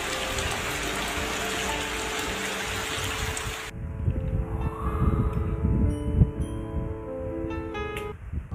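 Rain falls during a flood, a continuous wash of drops and rushing water that shifts abruptly partway through to a fuller, rumbling, more churning texture, with no voices heard.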